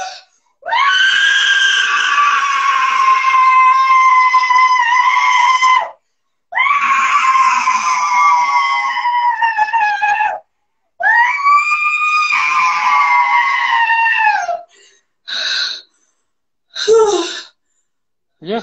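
A person screams hard into a pillow during a therapy session, with three long strained, muffled cries followed by two short bursts and brief breathy pauses between them.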